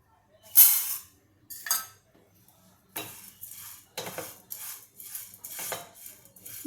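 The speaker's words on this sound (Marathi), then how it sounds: "ही मुगाची डाळ मी आता याच्यामध्ये घालते" Dry moong dal for Maharashtrian metkut is tipped into a pan and stirred with a small spoon while it roasts: two sharp pouring rattles, then a run of quieter, uneven scraping and clinking strokes.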